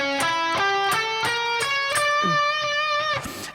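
Electric guitar playing a passage of a solo, a quick run of clear picked notes stepping steadily upward with a bright distorted tone, ending in a short bend.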